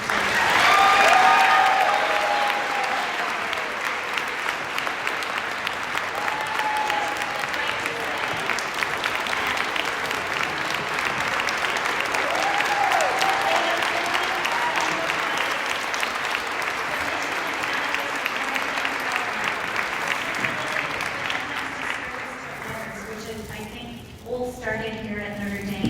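Sustained audience applause at a fundraising event, steady and fairly loud from start to finish, tapering and thinning out near the very end.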